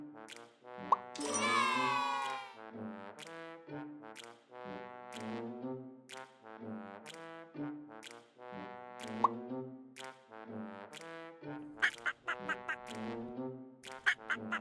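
Cartoon ducks in a kids' animal puzzle game quack over and over in a bouncy rhythm, the nasal calls repeating steadily with small plopping pops in between.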